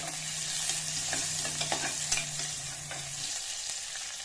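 Onions frying in oil with cumin seeds sizzle steadily while being stirred, a spoon scraping the pan in scattered clicks over the constant hiss, no voices.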